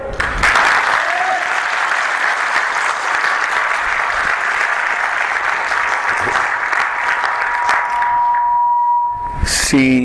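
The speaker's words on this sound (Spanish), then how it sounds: "Dale un aplauso a Cristo Jesús" A church congregation breaks into sustained, loud applause, a thick continuous wall of clapping for most of the stretch, joined briefly by a voice and some tonal sounds before it cuts off abruptly near the end.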